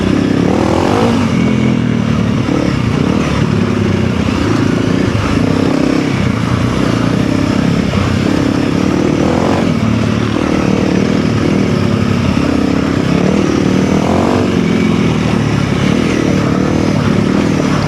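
Off-road motorcycle, a Honda CRF300L or KTM 390 Enduro R, pulling hard in second gear on a dirt trail; a steady, close engine drone rises and falls under wind buffeting for the whole stretch, with no talking.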